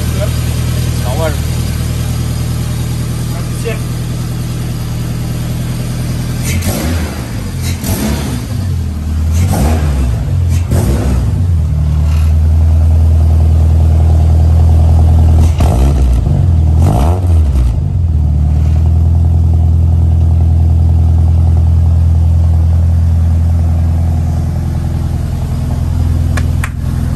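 A car engine running again after a repair job in which the fuel tank was welded and refitted, with a low rumble held throughout and several rev bursts rising and falling in the middle while people talk.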